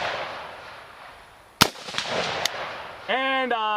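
A rifle fired at an outdoor shooting range with targets at 100 yards gives two or three sharp, separate cracks a moment apart, the first loudest, before a voice begins over faint background hiss.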